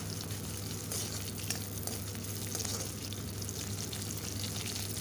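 Onions and green chilies stir-frying in a pan toward a reddish color give a steady, dense frying hiss with soft stirring scrapes, continuous and close throughout.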